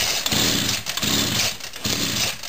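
The small engine of a weedeater bike, with the choke off, sputters into life with loud, close pulsing revs that rise and fall in three rough bursts.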